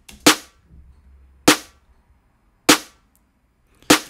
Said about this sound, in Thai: สแนร์ของอันนี้เนี่ยจะเป็นอย่างนี